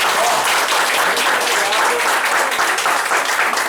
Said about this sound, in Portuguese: queria uma salva de palmas por hoje.